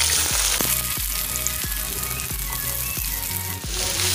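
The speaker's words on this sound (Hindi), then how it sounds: "अब हम प्याज डाल रहे हैं।" Onions sizzle as they fry in hot oil with cardamom, cloves and black pepper in a pan for a chicken curry, with a steady loud crackle and regular scraping stirs.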